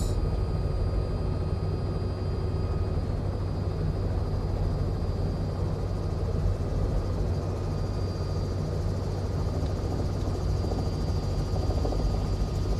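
A Robinson R66 helicopter's rotor and engine drone steadily and loudly throughout in a flight simulator game, a constant whirring hum without pause.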